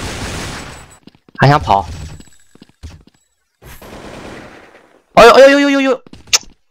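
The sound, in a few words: USP pistol gunfire in the video game Shengsi Juji (生死狙击)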